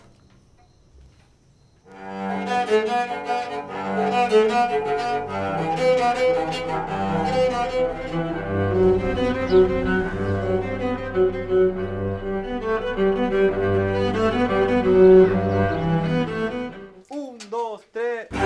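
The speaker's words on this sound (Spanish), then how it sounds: "Este chelo está hecho de una lata de aceite," A recycled cello built from a discarded oil can, with tuning pegs made from an old meat tenderizer and gnocchi tool, plays a sustained bowed melody for about fifteen seconds after a short spoken count-in, ending abruptly.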